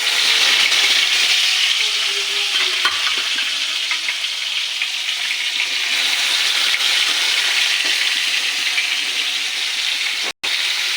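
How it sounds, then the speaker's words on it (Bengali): Sarputi fish frying in hot oil in a wok sends out a loud, continuous sizzle with no talk, cut by a brief silence near the end. "মাছটাকে ভেজে নেব।"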